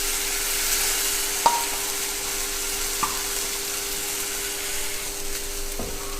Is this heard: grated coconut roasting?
yes